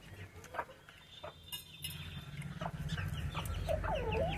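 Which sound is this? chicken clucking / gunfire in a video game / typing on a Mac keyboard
chicken clucking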